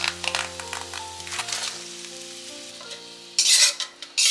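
Minced meat hits a hot pan of green onion and fries in a steady sizzle, with scraping stirs throughout and louder crackling bursts near the end, set against soft background music.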